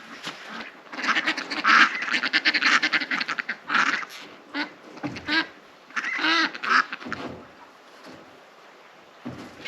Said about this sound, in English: there is a lot more ducks than we used to have